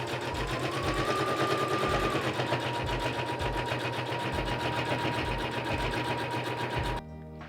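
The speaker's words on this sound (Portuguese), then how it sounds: "é só uma costurinha reta" A sewing machine runs a straight stitch on a small fabric phone pouch, its needle chattering rapidly and evenly with a steady motor hum for about seven seconds before stopping abruptly.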